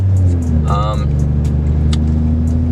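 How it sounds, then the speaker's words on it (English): A BMW 535 with its mufflers deleted drives along, heard from inside the cabin as a loud, steady engine drone with a brief sound partway through that may be a voice. "now we're inside the BMW, taking it for a little drive"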